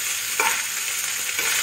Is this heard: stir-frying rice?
yes